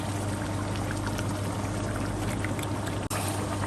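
Half a kilo of tomato paste is poured into masala frying for restaurant-style chicken dum biryani, giving a steady, unbroken rush of pouring and sizzling over a low hum that cuts out briefly near the end.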